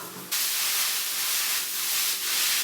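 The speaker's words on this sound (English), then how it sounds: "Now we've got our spring onions frying off." Loud, steady sizzling of noodles and spring onions frying in a hot pan, a continuous hiss that swells slightly after a brief quiet start.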